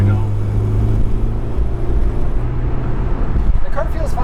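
Honda EG6 hatchback with a B18C engine driving at moderate revs, a steady engine hum and road noise filling the cabin throughout, with people talking over it.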